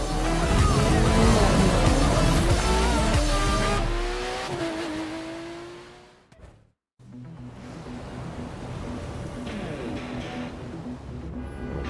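Race cars in the video game The Crew 2 roar loudly and continuously with revving engines and tire squeal, cut by a brief near-silent gap before the driving noise resumes, layered with music.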